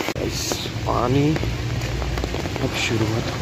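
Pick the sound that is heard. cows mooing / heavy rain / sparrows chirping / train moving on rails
heavy rain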